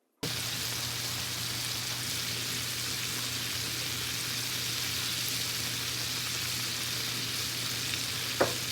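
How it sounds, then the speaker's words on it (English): Steady, loud sizzling of chicken strips frying in hot oil, a continuous crackling hiss with one brief clink near the end. "while that's frying"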